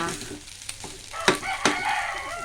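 Leftover rice and egg stir-fried in a pan: a soft, close sizzle with a few sharp scrapes of a utensil stirring, no voice over it, and a rooster crowing in the background.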